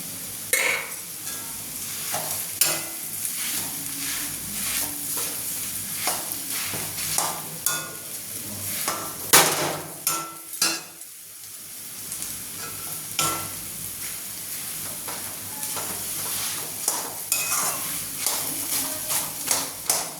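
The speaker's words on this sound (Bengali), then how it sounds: "এখন মুগ ডাল আর চানার ডালটাকে অল্প ভেজে রেখেছিলাম, এখন ভেজে নিচ্ছি" Moong dal and chana dal frying in a pan with steady sizzling, punctuated by repeated scraping and tapping of a stirring spoon, close and moderately loud, no talking.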